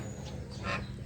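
Geese honk a couple of times, close by, over a low background rumble.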